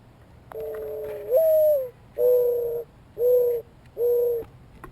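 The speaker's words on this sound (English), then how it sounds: "I always thought this was an owl when I heard it, but I love hearing it as a mourning dove." Mourning dove cooing: a soft introductory note followed by four clear, evenly spaced hollow coos, close and distinct over quiet background.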